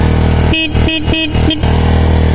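Four short, loud horn beeps from a restored Kawasaki Barako motorcycle, evenly spaced with brief gaps, over a steady engine rumble.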